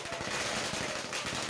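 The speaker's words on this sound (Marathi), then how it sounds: "पुन्हा एकदा फटाक्यांची आतषबाजी होते, फटाके लावून तरुण पळतो आहे" Firecrackers burst at a village Tulsi wedding celebration in a rapid, continuous string of sharp cracks, loud and close, with a dense rattling rhythm and no audible talking.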